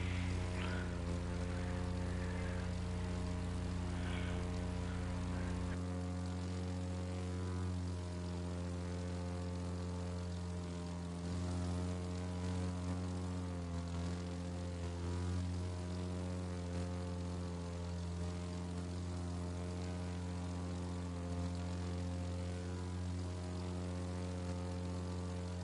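Propeller plane flying in a video game, its engine holding a steady, droning hum with a deep low tone that drops away partway through, continuous and alone throughout.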